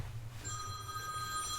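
A mobile phone rings with a steady electronic ringtone that begins partway through and carries on, faint and close, over a low room hum with no talk.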